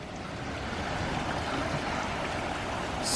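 Water trickles and splashes steadily down a finished pondless waterfall, flowing from a hidden spillway under faux driftwood and over rock, a close, even rush that continues throughout.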